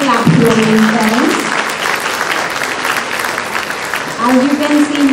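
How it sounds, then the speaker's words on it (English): Parents at a school cultural fiesta for grades IX–XII applaud, a broad wash of clapping under an amplified voice that speaks at the start and again near the end. "Please keep the clap rolling, parents"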